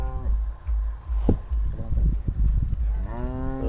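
Young Holstein Friesian calves on a farm low repeatedly, with several close moos including a long rising call at the end over farmyard background noise.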